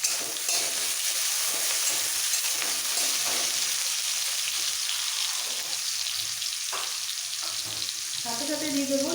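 Chopped onion frying in a black mustard seed tempering for poha, a dense, steady sizzle close by with soft stirring movements and a brief clatter near the end.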